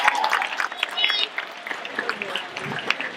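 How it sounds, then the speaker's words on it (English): An audience at a business presentation claps in a short, moderate burst of applause, fairly distant, with some voices mixed in. "can we give her a hand clap"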